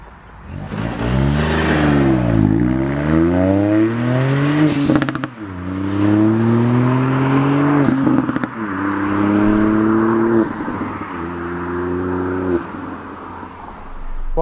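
A Pumaspeed-tuned Ford Fiesta ST with a Scorpion exhaust and dump valve revs hard and loud, the engine pitch sweeping up and down through several repeated blips and holds, with brief pauses between revs and no talking.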